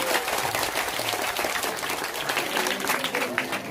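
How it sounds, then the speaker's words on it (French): An outdoor community audience at a donation event applauds loudly and steadily, dense clapping with crowd noise and some voices mixed in throughout. "On applaudit très fort!"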